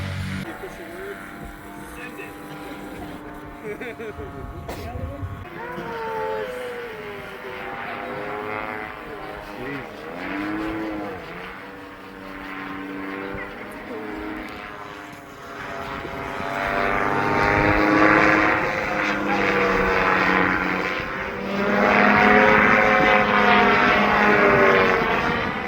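A powered paraglider's propeller engine drones and revs at a fly-in, Fly The Fort 2025 Spring Edition, with a loud, pulsing buzz that rises and falls as the wing takes off, under continuous talking.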